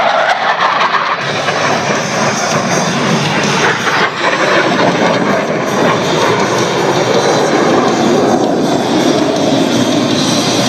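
Blue Angels jets roar past during an airshow formation roll. The loud, continuous engine rush fills the whole stretch and swells gradually without pause.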